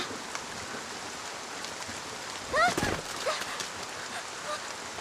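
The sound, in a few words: heavy rain falling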